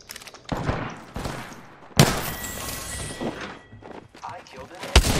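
Gunfire in a shooter video game crackles in bursts, with a sharp loud volley near the two-second mark and another sharp shot near the end, mixed with game effects and voices talking throughout.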